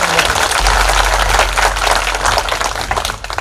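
Loud, dense applause from a crowd at a rural public event honouring Prime Minister Narendra Modi, a steady wash of many hands clapping close by for several seconds.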